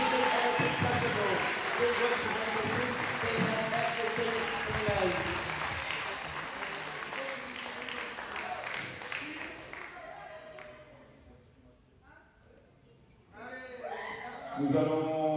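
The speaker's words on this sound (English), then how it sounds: "On peut les applaudir très fort." Spectators at a volleyball final ceremony applauding the competition's volunteers in a large hall: broad, loud applause with cheers that thins out, goes quiet, then swells again as a voice begins over a PA.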